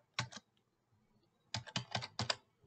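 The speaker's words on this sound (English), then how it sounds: "We type in start and hit enter." Keys clatter on a computer keyboard during PLC programming, one short burst and then a longer run of quick, crisp keystrokes, close by in a quiet room with no talking.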